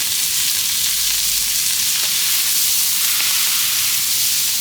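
Safflower oil, white onion, chuck steak and brisket sizzling on a flat-top griddle, a loud, dense, unbroken hissing crackle held steady throughout, close up with nobody talking.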